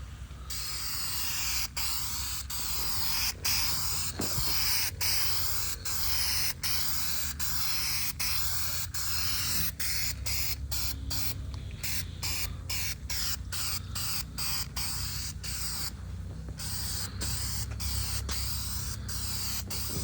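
A rattle can sprays paint onto a Pontiac 350 engine in a long steady hiss broken by many short pauses, the bursts coming closer together toward the end, with no one talking.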